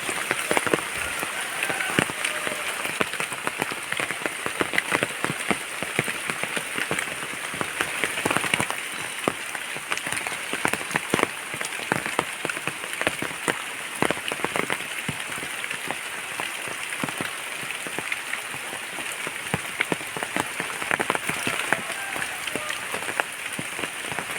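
Steady, dense monsoon rain patters continuously on forest leaves and ground, a constant hissing downpour with no break.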